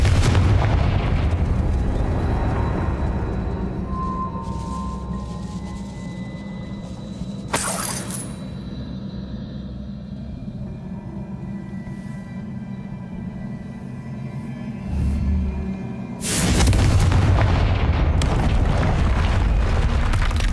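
Confringo blasting spell explosions in Hogwarts Legacy: loud booming blasts with crackling debris over a deep rumbling game soundscape, one sharp burst midway and a heavier explosion near the end, no talking.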